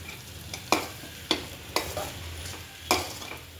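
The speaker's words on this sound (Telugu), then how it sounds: "తర్వాత లాస్ట్లో కొంచెం కొత్తిమీర వేసుకొని బాగా మిక్స్ చేసుకోవాలి" Potato fry with coriander leaves being stirred in a pan, four or five distinct spatula scrapes at irregular intervals over a soft background sizzle, close and fairly quiet.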